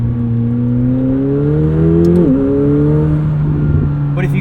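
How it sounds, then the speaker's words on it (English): A 2025 McLaren 750S sports car engine revs up in a rising whine, drops sharply as it shifts, then climbs again, loud and close. "The engine sounds a little bit different here than it does in the 720S."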